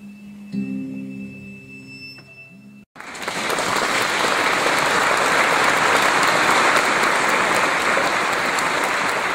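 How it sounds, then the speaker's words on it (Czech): A full church nave of concert listeners breaks into loud, dense applause after a performance by L. Brabec and J. Svěcený, following a brief quieter passage with a held tone; the clapping then continues steadily. "Závěrečný potlesk zaplněné kostelní lodě byl důkazem toho, že koncert těchto dvou umělců se opravdu povedl"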